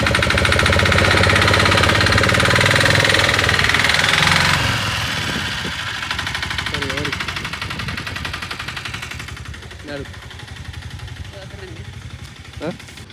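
A motorbike engine runs loud and steady while riding, then eases to a lower, rougher throb with brief clatters and knocks toward the end; a voice talks over it.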